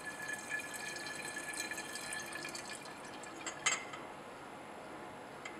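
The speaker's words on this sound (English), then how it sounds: "We place the nitric acid into the flask." Nitric acid poured into a laboratory flask, a faint, steady trickle of liquid with light bright splashing and one brief clink, heard close but quiet.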